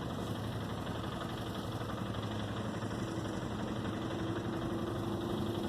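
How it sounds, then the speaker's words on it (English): A four-wheeler ATV engine runs steadily outdoors in nature, a continuous droning rumble with a sustained low hum, fairly close and unbroken throughout. "People are passing by, riding their four-wheeler."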